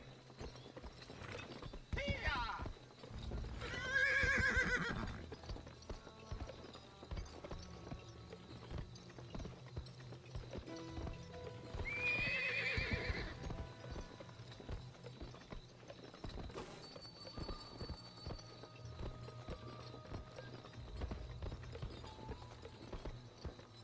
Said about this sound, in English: The horse has unlimited stamina as long as you hold this down.